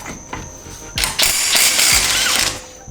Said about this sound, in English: I have a 36 mil axle socket on the impact